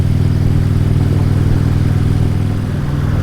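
A motorcycle engine while riding on a road heading east out of Vancouver, loud and steady, a low throbbing drone with continuous wind rush and no talk over it.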